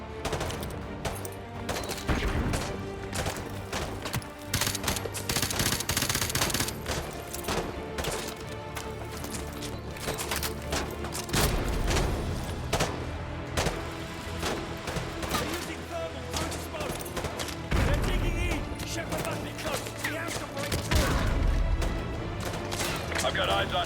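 Automatic gunfire in the Modern Warfare 2 Remastered campaign, dense bursts of loud full-auto shots and overlapping weapons fire throughout, with soldiers shouting over the battle.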